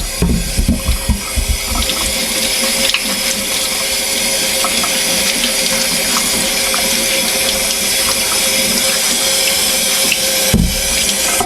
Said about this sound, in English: we want to give our potatoes a little washing under there